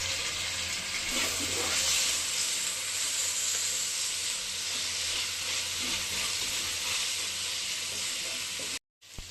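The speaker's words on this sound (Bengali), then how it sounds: "আমি এখন এই যে আদা রসুন বাটাটা দিয়ে একটু ভালো করে ভেজে নেব।" Ginger garlic paste fries in a pan alongside onions for a duck curry, giving a steady crackling sizzle with occasional stirring scrapes before the sound cuts off abruptly at the end.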